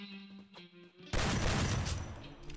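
A G36 rifle in the Free Fire battle royale game opens up abruptly after some quieter game sounds and fires a loud, dense burst of rapid shots that continues to the end.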